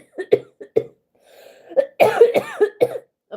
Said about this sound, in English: Of course I would have a coughing fit.